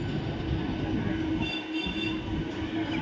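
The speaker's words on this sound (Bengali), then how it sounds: "দেখো শেওড়াফুলি স্টেশন ঢুকছে।" A local train pulls into Sheoraphuli station, with a steady low rumble of wheels and carriages heard from inside, a faint squeal running along the top and a brief dip in the rumble partway through.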